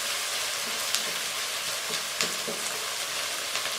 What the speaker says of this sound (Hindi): अब हम प्याज को फ्राई करके लाइट ब्राउन कर लेंगे।